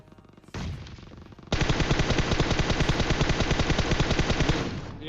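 Rapid automatic gunfire in PUBG Mobile starts with a short burst, then after a brief gap becomes a sustained loud stream of rattling shots, close and continuous.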